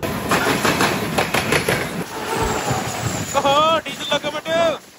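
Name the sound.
Rajahmundry–Kakinada Port MEMU passenger train running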